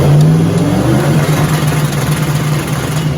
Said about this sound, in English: Chloe, rev it up.